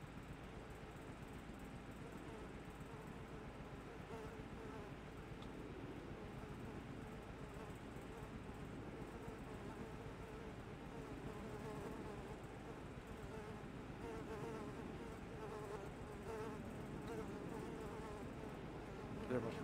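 Flies buzz steadily and densely throughout, a continuous droning swarm inside Zero's shop in the Shadow Punk game, with no talk over it.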